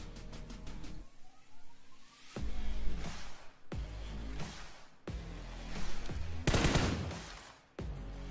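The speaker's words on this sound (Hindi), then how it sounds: "डीपी का क्या खतरनाक स्प्रे आया है" A DP machine gun sprays in the BGMI battle game, loud rapid bursts of automatic fire separated by short pauses, with one especially heavy burst near the end.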